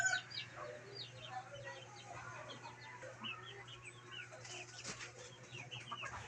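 A hen clucks in short, quiet bursts, with other fowl clucking around her and a steady low hum underneath, and a voice speaks briefly now and then.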